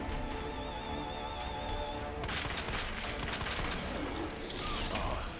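Shotgun fire in the video game Resident Evil 2, a burst of blasts and crashing impacts over a droning game backdrop, fairly loud, with a tonal hum cutting off partway through.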